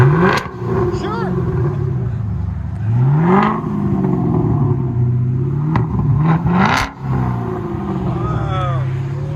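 Chevy Camaro SS with a 6.2L V8 and Flowmaster Outlaw exhaust with 5-inch tips, revved repeatedly up and down: loud, deep swelling blips with a rough idle between them, while people talk over it.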